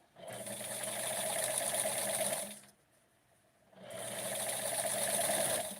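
A sewing machine stitching a hem on doll-sized clothing runs steadily in a fast, continuous whir, pauses for about a second, then starts stitching again.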